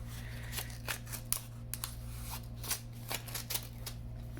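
Scissors are pulled out during paper card-making at a craft table: soft rustling and a series of quick dry clicks and snips, close and quiet, with no talking.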